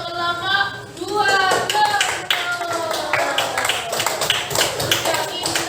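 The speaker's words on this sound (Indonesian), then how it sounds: "Tepuk tangan untuk kelompok 2." A class of students claps for a group of classmates, a busy patter of hands mixed with overlapping voices and chatter.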